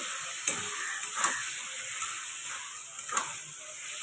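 Boneless fish fried in a pan and stirred with a spatula: a steady close sizzle with a few sharp scraping clicks of the spatula against the pan.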